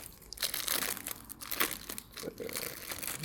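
Plastic bag crinkling and rustling in short irregular bursts as a rain visor for car side mirrors is unpacked, close and fairly quiet, with no talking.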